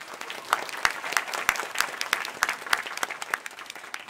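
An audience at a band's first solo concert claps, a crowd's patter of applause punctuated by several sharp, loud individual claps close by, continuing evenly for a few seconds.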